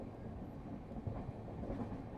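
The Arunachal Express, train 22412, rolls along the rails as it gathers speed, a steady low rumble with faint wheel clatter heard from inside, without talk.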